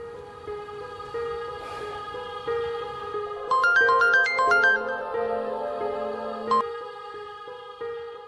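A mobile phone plays a melodic ringtone, a sustained tone under a quick run of bright rising and falling notes that cuts off abruptly, then quiet.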